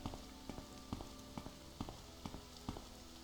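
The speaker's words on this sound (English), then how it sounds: "Oh, and it's raining." Rainfall in the game Morrowind, a soft steady patter filling the background with faint recurring clip-clop-like knocks at regular intervals, no voices.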